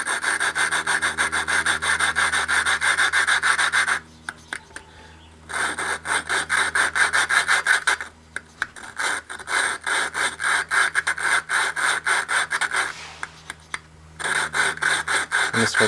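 A stuck Craftsman rototiller valve lapped with a suction cup tool, giving repeated rhythmic grinding, rubbing strokes in bursts separated by short pauses, close and clear.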